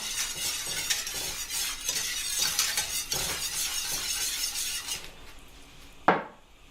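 Gravy stirred in a pan, a continuous clinking, scraping utensil sound against metal, close and busy, ending with a single sharp clank after it eases off.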